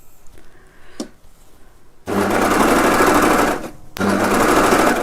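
An overlocker serger stitching two fabric pieces together runs in two loud, steady mechanical bursts after a few soft clicks, with a short pause between the runs.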